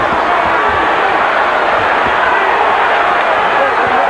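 A packed arena crowd roars continuously at a boxing fight between Mayweather and Chavez, a loud, dense wall of cheering and shouting with no breaks.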